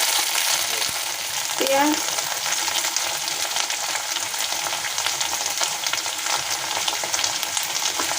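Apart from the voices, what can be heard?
frying okra, potato and onion together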